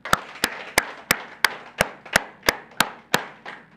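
Audience at a Bible lecture clapping in unison on cue, ten sharp synchronized claps at an even brisk rhythm, each with a short room echo.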